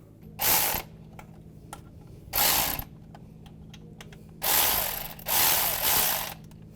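A ratchet tightens a thermostat housing bolt on a 2005-15 Nissan Xterra in four close bursts of rapid clicking, separated by pauses with faint background hum.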